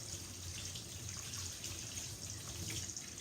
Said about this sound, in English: I'm going to take a parcel out and I'm going to wash these.